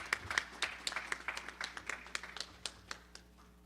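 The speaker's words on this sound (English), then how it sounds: "Let's give them another well-deserved round of applause." A conference audience at a Las Vegas event gives a round of applause, and the clapping fades from a dense burst into scattered, fairly faint claps.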